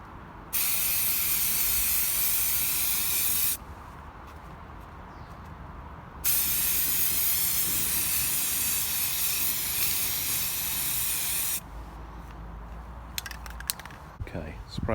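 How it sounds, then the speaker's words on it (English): Aerosol can spraying yellow high build primer onto a Mantec sump guard for a Land Rover Freelander 2, in two long, loud, steady hissing bursts separated by a pause, followed by a shorter burst and then some handling noise. "sprayed it all over with yellow high build primer"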